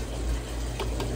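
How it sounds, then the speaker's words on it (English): A household dishwasher running nearby, a steady watery rush and hum with faint sloshing, filling the short stretch on its own. "I am running the dishwasher."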